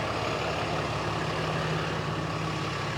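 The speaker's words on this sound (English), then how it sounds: "So you might hear a bunch of construction work right behind me." Construction vehicles and heavy machinery working nearby in Old Mandeville, Louisiana, a dense, steady rumble of idling truck engines with no breaks, no talking.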